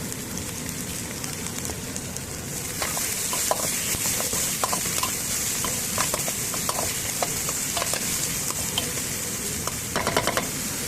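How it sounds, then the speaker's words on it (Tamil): Onion and coriander stems fry in oil in a pan for samba wheat upma, giving a steady hiss with scattered crackles and occasional spoon scrapes, close and even, with no speech. "நல்லா பொரிச்சு கொடுத்து வெங்காயம்ல 2 கொஞ்சமாக இருக்குது. நல்லா வதங்கியாச்சு."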